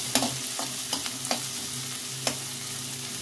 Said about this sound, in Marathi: तो कांदा ह्या लसूण, मिरची आणि तेल यामध्ये टाकून घेतो आणि चांगला भाजून घेतो.